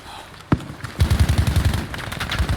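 In Battlefield V, a single sharp shot rings out, followed by rapid bursts of automatic machine gun fire rattling in quick, loud succession.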